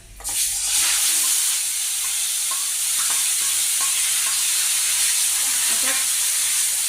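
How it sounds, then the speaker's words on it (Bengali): Onion, garlic and ginger paste fries with cumin in hot oil for a dahi katla fish curry, giving a loud, continuous close sizzle with faint stirring scrapes and no talk. "জিরেটা দিয়ে আমি দিয়ে দিচ্ছি পেঁয়াজ বাটা রসুন বাটা আদা বাটার পেস্টটা"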